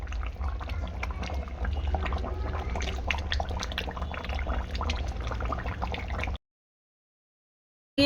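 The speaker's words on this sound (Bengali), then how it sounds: "ফুটছে খাসির মাংস তো আর কিছুক্ষণ ভালো করে টকবক গিয়ে ফুটুক" Mutton curry with potatoes and whole garlic bubbling in a cooking pot, a steady, close simmering burble that runs unbroken for several seconds and then stops abruptly.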